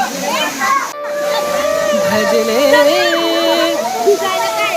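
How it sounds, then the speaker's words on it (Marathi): A natural waterfall at the Ramling temple in Yedshi, Dharashiv, swollen after days of heavy rain, rushes in a steady broadband roar beneath voices chanting a devotional refrain throughout. "मुसळधार पावसामुळे धबधब्याला पाणी आले आहे"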